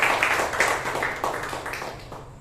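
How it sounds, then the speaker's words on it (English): An audience at a Toastmasters meeting gives a round of applause, with steady, close clapping that gradually fades over a couple of seconds. "Please give the evaluator a huge round of applause"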